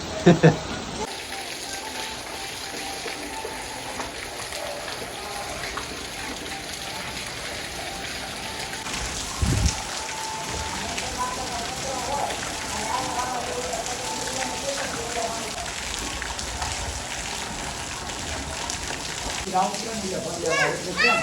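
Heavy rain driven by wind in a Banaskantha village during a downpour, a dense continuous hiss and patter of drops with occasional louder gusts and splashes, a voice speaking over it.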